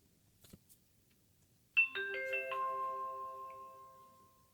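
The LAMTTO 9.26-inch portable CarPlay car stereo display plays its startup chime on booting, a clean cascade of bright ringing tones that step in quickly and sustain, slowly fading over a few seconds in a quiet cabin.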